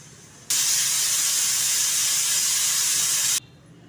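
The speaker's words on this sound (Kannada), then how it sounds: "ಈಗ ಕುಕ್ಕರಲ್ಲಿ ಕಾಳು ಮತ್ತು ಕಳಿಲೆ ಹಾಕಿಬಿಟ್ಟು ಒಂದು ಮೂರು ವಿಷಲ್ ಕೂಗಿಸ್ಕೊಳ್ತಾ ಇದ್ದೀನಿ ನಾನು" A pressure cooker holding legumes and bamboo shoots releases a steady, loud hiss of escaping steam that starts abruptly, holds for about three seconds with no pauses, then cuts off sharply. No one speaks over it.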